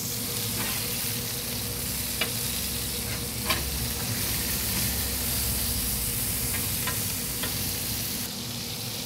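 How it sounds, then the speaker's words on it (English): A brisket burger patty sears loudly on a hot griddle, a dense steady sizzle with a few sharp pops and spatula scrapes as it is flipped to crust, with no voices. "as we flip this over, this is really going to crust onto the surface"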